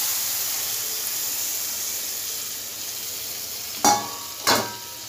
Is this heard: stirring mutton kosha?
yes